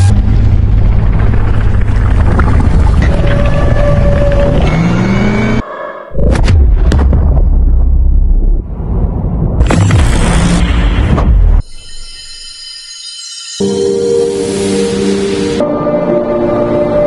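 Powerful plasma weapon blasts in a film battle as the Kraken is destroyed, with roaring booms, rumbling bursts and abrupt cuts between loud, dense explosive passages over a heavy low-end drone.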